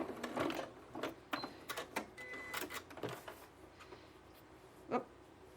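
A sewing machine backstitching a quilted, self-binding table cloth, giving short bursts of rapid mechanical stitching separated by pauses, with a final brief whir at the end, close and fairly quiet.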